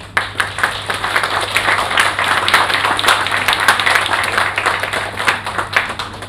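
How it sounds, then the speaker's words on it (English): An audience at an academic workshop on psychoanalytic hermeneutics claps hands together, a dense, steady patter of applause in a room with a low electrical hum under it. "So all of you must give her, you know, a clap of hands."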